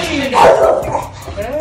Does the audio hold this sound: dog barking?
yes